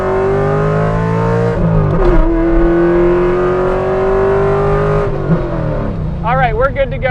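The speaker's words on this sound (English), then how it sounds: "Let's get into second gear." A C5 Corvette accelerates hard up close, its engine note climbing in pitch. Brief dips mark gear changes, including the shift into second, before the engine rises again.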